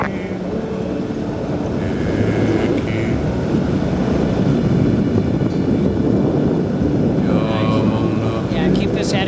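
An ultralight aircraft engine runs steadily at close range during a back taxi for takeoff in Hawaii, a constant loud drone with radio-style voices talking over it.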